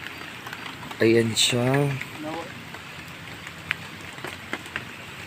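Steady patter of rain falls throughout at a lake in Leyte, with a voice speaking briefly near the start over the constant hiss.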